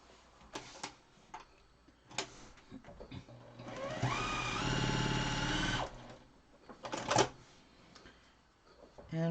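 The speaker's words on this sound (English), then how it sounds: "Now you're going to sew this piece to your square" A sewing machine stitching a quilt piece onto a square runs in one steady whirring burst of about two seconds at close range, with handling clicks and taps of fabric before and after.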